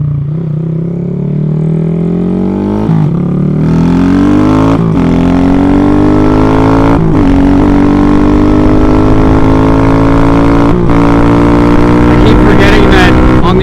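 Honda Grom motorcycle engine while riding, loud and steady with rising revs through several upshifts marked by brief dips, plus constant wind roar. Someone talks over it.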